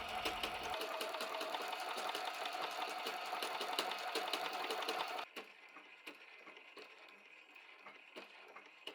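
A sewing machine stitches quilting on a small fabric house-shaped box, running with a fast steady needle rhythm up close, then stopping and leaving only faint handling noises.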